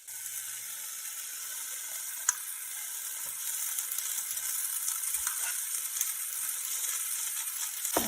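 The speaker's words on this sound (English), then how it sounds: "we're going to add our rice to the other side of the pan" Cooked rice frying in a pan for gluten-free chicken fried rice gives a steady, soft high hiss of sizzling, broken by an occasional light click or scrape.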